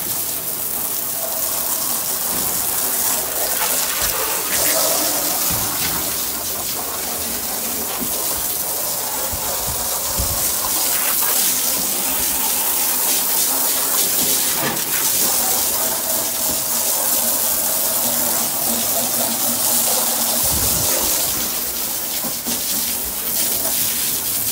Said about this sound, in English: And now I'm just gonna try to hose it down.